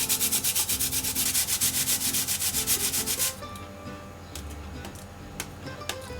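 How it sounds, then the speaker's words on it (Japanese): Raw potato rubbed against the ridged inside of a Japanese suribachi mortar, a steady rhythmic scraping of repeated strokes that stops partway, leaving quiet kitchen clatter and faint ticks. "すり鉢の中にじゃがいもをすり入れていきます。"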